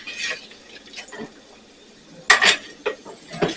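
Roasted vegetables are turned over in a pan of olive oil and barbecue sauce, giving a few soft scraping and clinking utensil-on-pan sounds, with a sharper cluster of clatter near the end.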